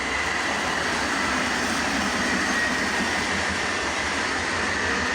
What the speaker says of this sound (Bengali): এখান দিয়ে ট্রেন আসছে।